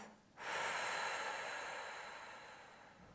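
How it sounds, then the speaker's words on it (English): A deep breath released through the mouth in mountain pose during a yoga flow, heard as one long, close, breathy whoosh that rises quickly and fades gradually, soft and unaccompanied by speech. "Take a deep inhale and exhale through your mouth."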